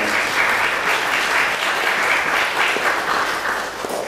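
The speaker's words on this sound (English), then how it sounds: "Come on, clap your hands." Mourners at a funeral service in a Baptist church applaud together, a thick, sustained patter of many hands clapping at steady loudness, fading a little near the end, without speech.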